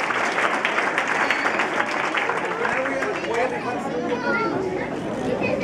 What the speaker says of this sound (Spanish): Un aplauso para el tercer lugar